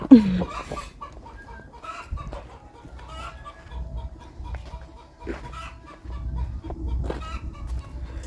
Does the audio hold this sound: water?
no